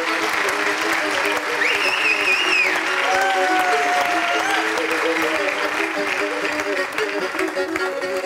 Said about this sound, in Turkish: Bir alkış tutalım mı?